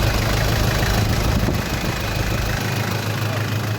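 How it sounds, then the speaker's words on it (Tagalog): A 2007 Isuzu Trooper engine idles up close in a steady, loud low rumble that holds unbroken throughout, with no talk over it. "Yan, ito makina niya."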